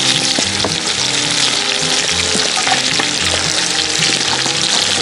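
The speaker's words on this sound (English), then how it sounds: "Now I'm going to go ahead and carefully start putting in the broccoli and cauliflower." Broccoli and cauliflower fry in a hot Dutch oven over a campfire with a loud, steady sizzle, close up, with scattered clinks and the rustle of stirring throughout and no speech.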